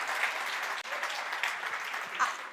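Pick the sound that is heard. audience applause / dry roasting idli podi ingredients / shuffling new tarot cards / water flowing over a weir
audience applause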